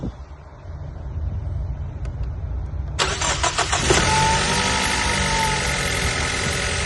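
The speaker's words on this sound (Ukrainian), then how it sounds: "Машина холодная, а то зараз буде холодний запуск." A cold car engine is started. After a few seconds of low background rumble, the starter cranks briefly and the motor catches with a loud burst, then settles into an even, steady idle close by.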